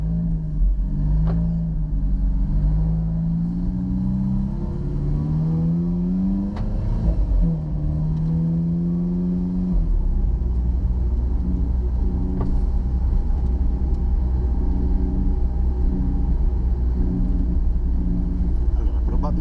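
An Alfa Romeo Giulia Quadrifoglio pulls away on a race track, its engine rising in pitch through a few gears, then settling into a steady loud rumble with people talking over it.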